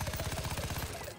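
Gunfire in the game South Park: The Fractured But Whole comes as a fast, evenly spaced burst of loud close shots, rattling steadily like automatic fire.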